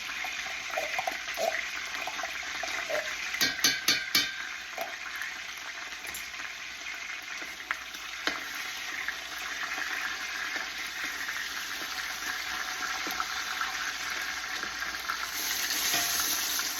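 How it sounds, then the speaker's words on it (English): Canned tomato sauce for birria hits a hot pan with a steady, fairly close sizzle that lasts throughout, along with a few brief stirring clatters. No one talks. "I like to put the tomato sauce into the hot pan to kind of shock the tomato a little bit"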